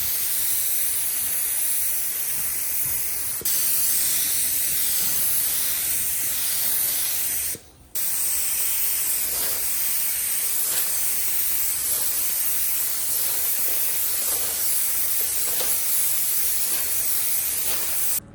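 A spray gun lays down UV primer coats in a continuous loud hiss, close and alone. The spray stops briefly partway through, then resumes and runs steadily to the end.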